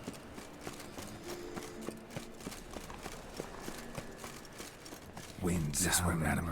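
Horse hooves clip-clop at a steady walking rhythm in The Witcher 3: Wild Hunt, moderately close under faint game ambience, before a louder burst of sound near the end.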